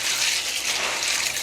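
Water gushes and pours steadily while beans are rinsed and drained in a kitchen, a close, hissing, continuous stream with no talk.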